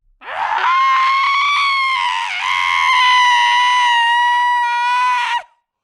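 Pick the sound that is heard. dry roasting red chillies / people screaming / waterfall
people screaming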